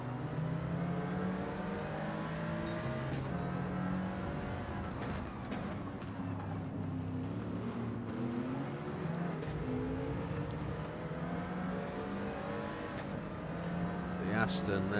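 A Mercedes-AMG GT Black Series race car engine in Gran Turismo 7 drones and revs continuously, rising and falling in pitch through gear changes, loud and steady throughout.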